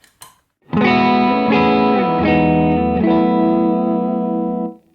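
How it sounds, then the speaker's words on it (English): Overdriven electric guitar chords through an overdrive pedal ring out loud and sustained, with a gritty distorted tone and a few chord changes before fading out. "I'm going to go ahead and turn on my overdrive."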